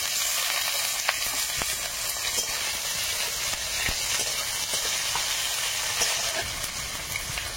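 Chopped onion dropped into hot oil with bay leaf and five-spice seasoning for a prawn curry, a loud, dense sizzle and crackle going steadily throughout with a few faint stirring clicks.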